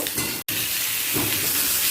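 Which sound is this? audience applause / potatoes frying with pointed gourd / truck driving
potatoes frying with pointed gourd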